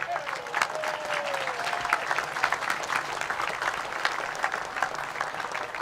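Steady applause from an audience at a state fair ribbon-cutting fills the whole stretch, dense clapping with occasional louder bursts and faint crowd noise underneath.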